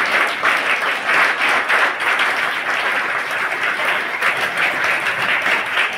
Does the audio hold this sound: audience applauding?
yes